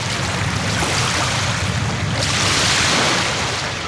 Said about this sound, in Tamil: அடுத்த நொடியில் கடல் 2ஆக பிரிந்து இருபுறமும் கடல் நீர் மதில் சுவர் போல் நிற்க